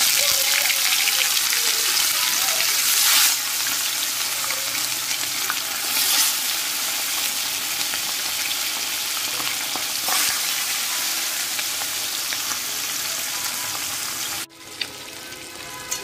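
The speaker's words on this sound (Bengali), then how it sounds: "এবার একটা একটা করে মাছগুলোকে সব ভেজে নেব।" Fish pieces frying in hot oil in a kadai give a steady, loud crackling sizzle that holds for most of the stretch, with occasional bursts as the pieces settle, then cuts off abruptly near the end.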